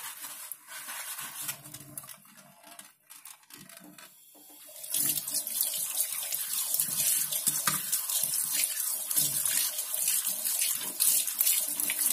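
A tray is washed with a soft soapy sponge under a running kitchen tap: quieter scrubbing and trickling at first, then a louder steady gush of water hitting the tray and sink for the rest, with no voices.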